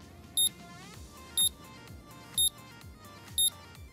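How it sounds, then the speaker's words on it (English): An OBD 500 Pro scanner in Car Mechanic Simulator 2021 emits four short, shrill electronic beeps evenly spaced about a second apart over a low, steady game soundtrack. "God, that's an annoying beep."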